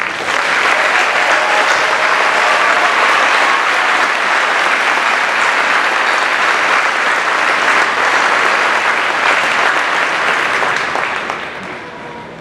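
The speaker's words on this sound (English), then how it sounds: "Please let us applaud the formidable accomplishment of all our master's candidates." A large audience at a university graduation ceremony in an arena applauds for master's degree candidates, a dense, steady roar of clapping that holds for about twelve seconds before starting to fade.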